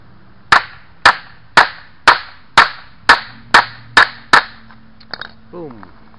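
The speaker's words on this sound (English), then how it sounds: "If you've never seen a grommet setter in action" A grommet setter kit hammers a grommet into a tarp: nine sharp, evenly spaced metallic strikes ring out up close, followed by a couple of lighter taps and a brief scrape.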